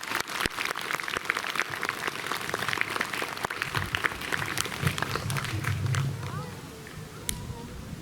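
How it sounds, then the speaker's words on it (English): Applause from an outdoor crowd at a school Veterans Day celebration, a steady patter of many hands clapping that fades toward the end. "Can we give him a round of applause, please?"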